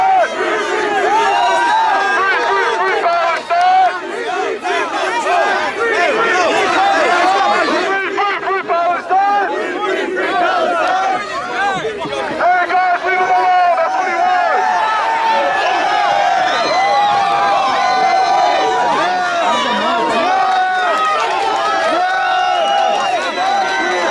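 Large crowd at a pro-Palestine rally in the United States, a dense, continuous roar of many voices chattering and calling out together, loud and close throughout with no pauses.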